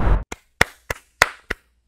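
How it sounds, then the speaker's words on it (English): Five sharp, separate hand claps at an uneven pace, close and loud, following a brief burst of voice. "I just got caught up in a moment and started clapping for something absolutely horrendous"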